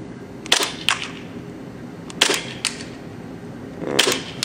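A KWA KMP9 airsoft gun fires in semi-auto and short full-auto bursts at a target about 50 feet away, with sharp close snapping shots spaced irregularly in pairs and clusters over a low background hum.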